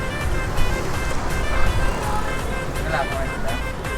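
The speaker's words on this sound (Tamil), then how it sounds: "இங்கே பஸ்ஸெல்லாம் போயிட்டு ரோடு ரொம்ப டிராஃபிக்காக இருக்கா" Busy road traffic with buses going past on a street in Pondicherry, a steady loud rumble and hiss of engines close by throughout, with brief horn-like tones and a voice talking over it.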